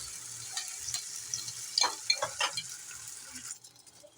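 Omelette mixture hitting a hot, lightly oiled pan, giving a steady high sizzle with a few louder crackling bursts partway through, then quieting toward the end.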